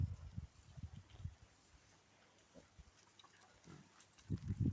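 Ten-day-old piglets grunt and oink in short low bursts close by, with a quiet gap in the middle before a louder cluster of grunts at the end.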